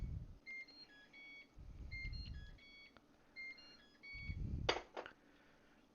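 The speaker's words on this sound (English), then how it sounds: "It's the most pretentious microwave alarm I think I've ever heard" A microwave oven alarm sounds in a home kitchen, a short melodic run of electronic beeps in several bursts, with quiet handling clatter and a couple of sharp knocks between them.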